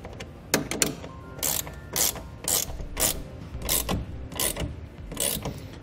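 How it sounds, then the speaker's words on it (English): Ratchet wrench with a 9/16 socket tightening a bed rail clamp for a BAKFlip FiberMax hard tonneau cover on a 2018 Chevrolet Colorado, giving repeated clicking strokes in a steady rhythm, close and fairly loud with no talking. "We'll use a 9/16 wrench to tighten it."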